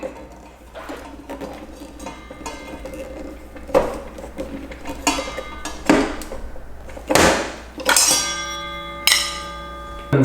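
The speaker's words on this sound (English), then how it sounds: "to tighten the saw blade, you'll need 2 wrenches" Metal wrenches clink and ring against each other and the blade nut while a 10-inch Kobalt folding table saw blade is tightened, several bright metallic strikes with lingering rings, close and without talking.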